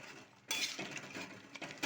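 A spoon stirs a Bengali-style crab curry (kakra kosa) with garam masala in a pan, making close, quiet metallic clinks and scrapes in short bursts.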